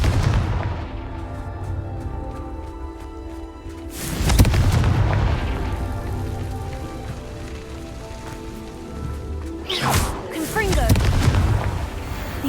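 In Hogwarts Legacy, a Confringo blasting curse goes off as booming explosions with bursts of crackling debris, two strong hits over a rain-like background wash, loud and close, with a voice speaking.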